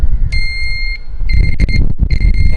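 A loud turn-signal buzzer on a restored 1976 Honda C70 motorcycle beeps in repeated pulses, a bright steady tone switching on and off over a rumbling engine close by.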